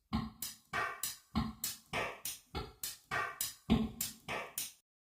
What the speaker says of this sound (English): Let's add some reverb. Drum kit sounds like this.